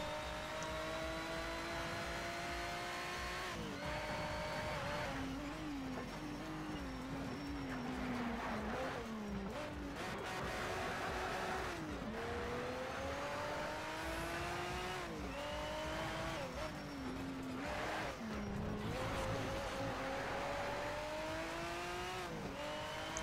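A race car screams around Laguna Seca in Need for Speed: Shift, its engine revving and rising through gears with repeated shift dips and bursts of tire squeal, loud and continuous throughout.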